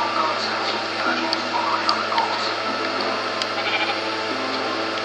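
Minecraft sheep bleat several times over a steady droning background hum, the calls fairly faint and scattered through the clip.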